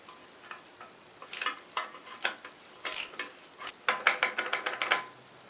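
A wrench tightens a nut on the rear axle shock of a Polaris 400L ATV, quick close ratcheting clicks in short uneven bursts, ending in a fast run of clicks, with no talk.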